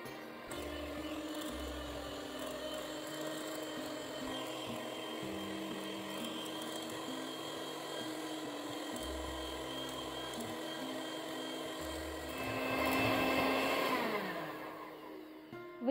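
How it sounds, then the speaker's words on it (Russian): An electric whisk or mixer beating zephyr (marshmallow) mixture until thick, a continuous whirring drone with shifting pitch and some rattling, growing louder and denser near the end. "Продолжаем взбивать до густой массы"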